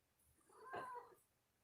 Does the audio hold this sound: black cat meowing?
yes